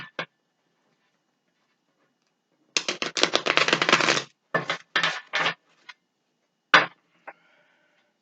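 Tarot cards reshuffled by hand, a few quick riffling bursts of papery flutter separated by silence, close and fairly quiet with no talk over them.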